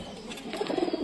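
Pigeons cooing inside a loft, soft low repeated coos growing a little louder toward the end over a dull background hum.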